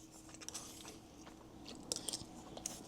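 Someone eats Ghanaian jollof rice from a spoon with soft, close chewing and a few small crunchy bites over a low background, no talking.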